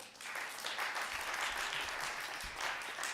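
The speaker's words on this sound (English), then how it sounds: "If we can have some applause for him." Applause at an evening event on disability and poetry, honouring an editor of the book Beauty is a Verb. Steady, even clapping from a seated audience carries on for a few seconds at moderate distance.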